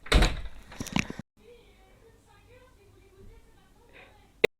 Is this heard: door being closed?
yes